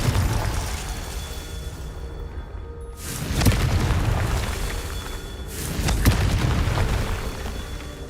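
Confringo fire spell cast in Hogwarts Legacy, two heavy booming blasts a few seconds apart, each swelling and rolling off over a low game rumble, with no voices.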